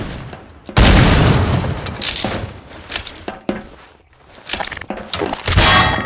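Stylized weapon effects from the game GMod Prop Hunt: a heavy boom and bursts of rapid firing and impacts, loud and close, separated by quieter mechanical clicks and shuffling.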